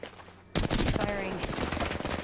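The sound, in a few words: gunfire in the video game Apex Legends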